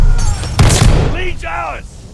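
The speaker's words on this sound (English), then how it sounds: "Tossing grenade." A frag grenade explosion in Call of Duty multiplayer, a sharp loud boom with a short noisy burst, followed by voices talking over the game sounds.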